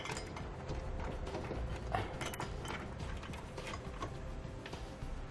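Ratcheting of a wrench tightening the bolts that mount a Curt trailer hitch receiver under a 2009 Toyota Matrix, a steady run of quiet mechanical clicks with a couple of sharper metallic knocks in the middle.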